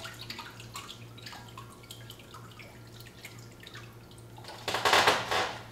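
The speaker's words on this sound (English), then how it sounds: "let me put some water in the tank here so we don't get sprayed again" Water splashes and pours into a pump test tank, starting with scattered drips and light trickles, then swelling into a louder gushing pour near the end over a steady low hum.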